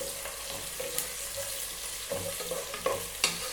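Long-sliced onions sizzling in hot oil in a pan for Hyderabadi chicken dum biryani, a soft continuous frying hiss punctuated by occasional light scrapes and stirring clicks, quiet and close.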